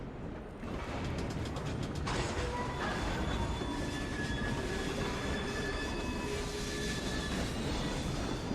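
A train runs in Assassin's Creed Syndicate, with a steady rumble of wheels on rails and faint high squeals and tonal whines rising over it, continuous throughout with no talk.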